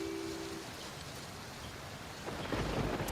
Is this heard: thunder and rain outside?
yes